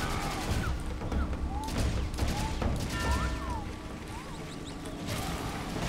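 Rapid gunfire bursts ring out while shooting targets in the video game Serious Sam 2, with dense repeated shots, sharp cracks and ricochet-like whines throughout, loud and continuous with faint game ambience underneath.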